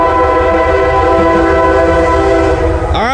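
A CSX coal freight train sounds its horn near a river bridge in Woodbine, one loud sustained multi-tone blast over the rumble of passing rail cars.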